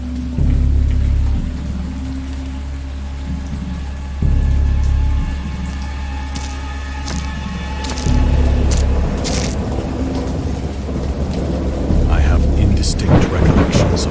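A thunderstorm rumbles with deep rolling thunder over steady rain, loud and continuous, the low booms swelling in several waves while pattering drops and crackles grow busier toward the end.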